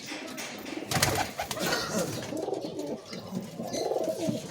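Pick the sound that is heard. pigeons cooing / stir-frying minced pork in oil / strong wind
pigeons cooing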